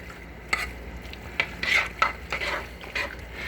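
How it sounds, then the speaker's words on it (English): Spoon stirring cheese sauce from leftover Kraft macaroni dinner into beef and green chile enchilada filling in a pot, heard as a handful of close scraping strokes with short pauses between them, quiet and alone. "You want to mix that in real good."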